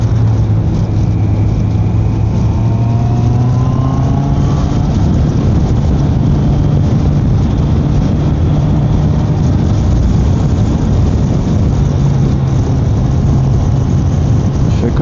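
Motorcycles ride along a winding road, heard as a loud, continuous engine drone under heavy wind rush, with the engine pitch rising and falling through the bends.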